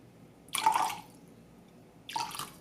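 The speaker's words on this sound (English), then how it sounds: "To this, I'll add 2 tablespoons of apple cider vinegar" Apple cider vinegar poured into a rice cooker pot for a dish with lemon juice, making two short wet splashing bursts with a quiet gap between them and no talking.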